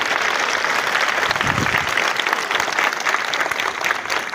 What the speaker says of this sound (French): Donc de vifs applaudissements.